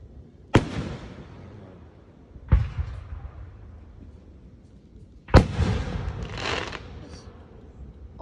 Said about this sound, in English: Sounded like it's wet fireworks